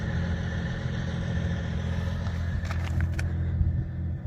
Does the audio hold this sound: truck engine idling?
yes